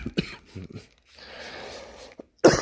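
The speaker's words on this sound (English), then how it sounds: "I've had a cough for a while." A man with a lingering cough gives a few short, faint coughs and throat-clearing bursts in a quiet garage space, ending with one louder harsh cough.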